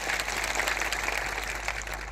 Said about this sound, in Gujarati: તાળીઓ પાડી લો.